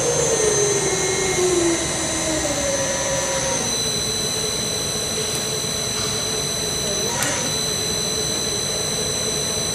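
A Pandjiris 4500 lb welding positioner fitted with a pipe welding chuck runs with a steady loud motor whine and hum, its pitch sliding downward early on as the speed changes, with faint squeals over a constant drone.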